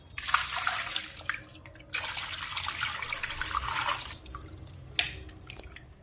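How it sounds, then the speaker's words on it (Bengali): Raw mutton is rinsed under running water in two long splashing bursts separated by brief pauses, ending in drips and light handling sounds, all close by. "দেখো এই যে মটন আনা হয়েছে। এখন আমি এটাকে ভালো করে ধুয়ে নেব।"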